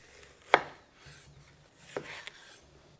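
A knife splits a cucumber on a cutting board in two crisp, close chops about a second and a half apart, with soft handling noise between them.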